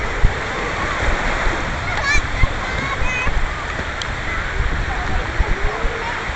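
Ocean waves wash and splash onto a sandy beach in a steady, broad rush, with brief splatters over the surf and a voice faintly audible in the background.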